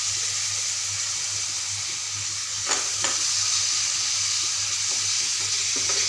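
Chopped ash gourd pieces frying in a pan with spices for a Nagpur-style bhaji, a steady close sizzle with a few scraping stirs and clinks, no talking.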